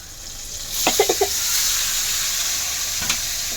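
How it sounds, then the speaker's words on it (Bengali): Marinated meat frying in a pan with well-fried spices in a home kitchen, a steady loud sizzle with a few quick stirring scrapes near the start and another clatter later, no talking. "তো এখন মাংসটা আমি এর মধ্যে দিয়ে দিব। দেখো আমার মশলাটা ভালো করে ভাজা হয়ে গেছে।"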